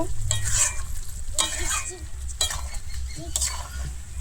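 Jackfruit and potato curry is stirred in a pan after ghee goes in. A spoon scrapes and stirs in about four distinct strokes over a soft, steady sizzle, close up and with no voices.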